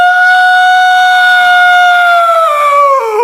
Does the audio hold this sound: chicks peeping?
no